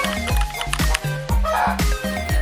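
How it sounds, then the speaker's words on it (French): Chickens in the Minecraft video game give repeated short clucks in a quick, steady rhythm, close and fairly loud, with a brief higher squawk partway through and no talking. "C'était quoi cette poule là?"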